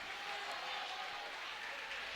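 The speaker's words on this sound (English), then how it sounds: "Hope Kramer gets a nice round of applause from the Marathon faithful" Applause from a home crowd of Marathon fans in a gym during a girls sectional semi-final basketball game, a steady, moderately loud patter of many hands with crowd murmur throughout.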